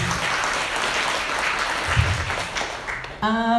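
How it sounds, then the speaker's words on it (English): A crowd claps steadily in sustained applause, dense and fairly loud, fading toward the end as a voice begins speaking. "Let's give another round warm of applause for Ms. McGuire Tran."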